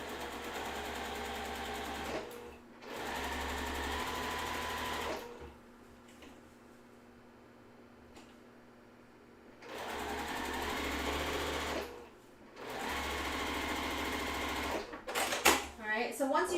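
A sewing machine runs through quilt pieces for a Wave Pool block in several separate bursts of steady whirring, with short pauses and quieter gaps between runs, and a voice speaks near the end.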